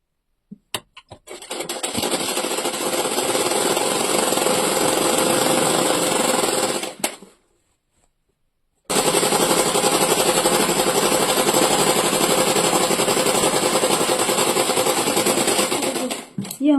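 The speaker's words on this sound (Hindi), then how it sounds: "इस पे ऐसे सीधी सिलाई लगाएंगे।" Sewing machine running a straight stitch on pajama pieces, a loud continuous mechanical drone that stops for about two seconds and then resumes steadily.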